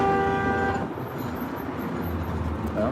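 A car horn toots amid busy city traffic on a town street turned big city, a steady harmonic honk in the first second, then engine and road noise rumbling on, with a faint horn note near the end.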